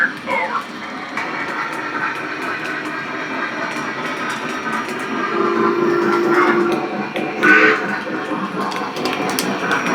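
A Lionel Commodore Vanderbilt model steam locomotive rolls in with a continuous rumbling, hissing chuff, thin whistle tones rising briefly over it, close and growing slightly louder, with faint voices at times.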